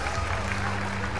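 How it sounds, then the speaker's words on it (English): A large crowd at the EVO 2015 Guilty Gear Xrd grand final cheers and applauds in a dense, steady roar, with voices mixed into the noise. "the crowd is on their feet cheering on their champion"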